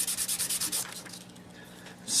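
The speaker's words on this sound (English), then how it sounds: "Sand down the edges." Sandpaper rubs back and forth over the edges of stacked model rocket parts in a quick, steady rhythm, close and clear, then slows into softer continuous scraping with a brief louder stroke at the end.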